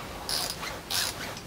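A wrench works at a front fork bolt on a Honda FTR223 motorcycle, giving two short metallic ratcheting bursts, close and fairly quiet, with no talking.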